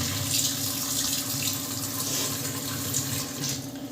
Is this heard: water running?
yes